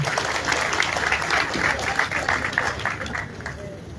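An audience at a Yoruba gathering breaks into sustained clapping, a dense, moderately loud patter of many hands that carries on for several seconds before starting to thin out.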